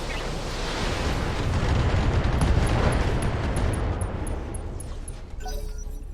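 Heavy simultaneous weapons volley from a mech in the Battletech video game: a sustained, loud rumbling roar of explosive blasts and booms that fades toward the end, followed by faint high pings.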